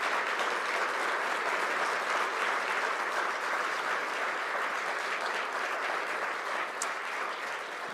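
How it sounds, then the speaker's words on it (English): Sustained applause from the audience honoring the 2025 National Football Foundation College Football Hall of Fame class at an awards press conference, dense, steady clapping filling the room for the full duration with no speech over it. "Let's give a warm applause for the 2025 NFF Hall of Fame class."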